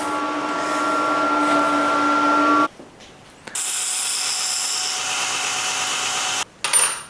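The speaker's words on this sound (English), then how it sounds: "I ground the black mill scale off these so that the TIG welds will take better to the steel." A power grinder works black mill scale off steel handlebars with a loud, sustained whine that stops, then starts again, changes pitch against the metal, cuts out and spins up once more.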